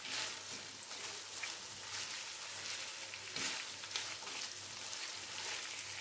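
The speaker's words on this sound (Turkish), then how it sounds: "Karıştırın köftemizi." Boiled bulgur meatballs are stirred in a sizzling sauce in a pan, a steady close frying hiss with soft intermittent stirring scrapes, and no voices.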